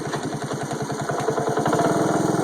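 A 1984 Honda ATC 125M three-wheeler running just after a kick start, its small single-cylinder engine putting out a steady, close, fairly loud rapid putter that builds slightly, with no voices over it.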